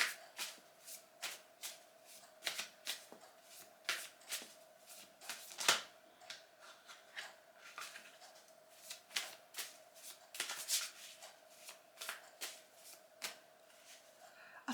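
Tarot cards being shuffled in quick riffles and flicks, a steady run of crisp papery snaps close by, fairly quiet, with a faint steady hum beneath and no talking.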